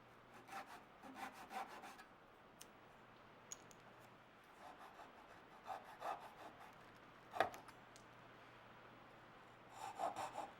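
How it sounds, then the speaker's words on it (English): A handsaw cuts tenons in small mahogany stretcher stock, with short, faint rasping strokes in irregular bursts separated by pauses; no one speaks. "Since our mahogany stretcher stock is small, and we're cutting tenons with angled shoulders, we'll use a handsaw."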